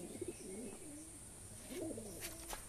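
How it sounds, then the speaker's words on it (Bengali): Bhatera pigeons coo in soft, low, rolling phrases, repeating a few times at moderate distance with no one talking. "এই যে ভাটেরা, এই যে ভাটেরা কবুতর।"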